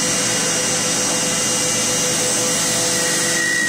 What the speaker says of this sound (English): the machine will automatically know this and continue on to a full function drilling cycle.